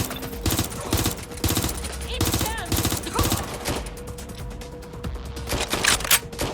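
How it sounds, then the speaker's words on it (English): Rapid bursts of gunfire from Watch Dogs Legion, played on Xbox One X, crackle in dense repeated volleys throughout a street shootout, loud and close, with shouting voices mixed in. "Suspect shooting!"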